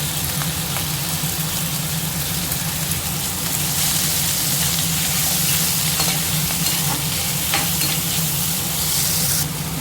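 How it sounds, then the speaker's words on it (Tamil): Onions and tomatoes sautéing in a pan, a steady close sizzle with faint stirring scrapes running throughout and rising slightly toward the end. "தக்காளி நல்லா வதங்கிருச்சு"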